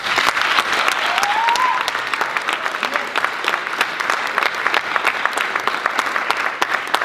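Audience at a drama conference and festival lecture breaking into strong applause, loud sharp clapping sustained for several seconds with a brief vocal cheer early on.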